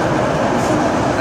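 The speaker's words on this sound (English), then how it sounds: "And there's our train down there." A metro train rumbles and roars at Lionel-Groulx station late at night, a loud, steady wash of wheel and motor noise filling the platform.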